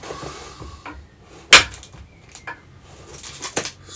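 Light taps of a hammer adjusting the iron of a wooden hand plane: one sharp, close knock stands out, with several softer taps scattered around it in a quiet room.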